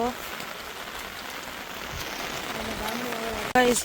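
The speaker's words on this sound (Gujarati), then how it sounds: "જુઓ જો એક તો વરસાદ ચાલુ છે" Steady rain falls on waterlogged cotton fields near a village temple, a continuous soft hiss filling the whole clip while someone talks over it.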